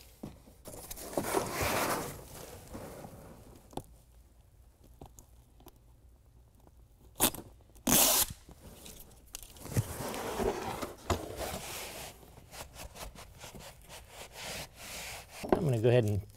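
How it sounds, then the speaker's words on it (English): Adhesive protector tape is peeled off Velcro strips while installing a BedRug molded carpet liner in a 2017 Honda Ridgeline truck bed, heard as several short close rasping rips and rubbing with quiet gaps between. "peel away the adhesive protector from the white strips of Velcro next"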